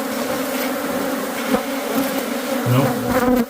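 Bees buzz steadily around small weep holes in a garden gazebo, a dense, continuous drone from several insects close by, with a brief spoken word over it.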